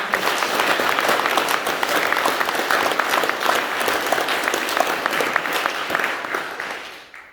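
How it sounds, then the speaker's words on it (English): A school academic prizegiving audience gives dense, sustained applause to scholarship winners, loud and even throughout before tapering off at the end. "Can you please give a huge round of applause to all those scholarship winners?"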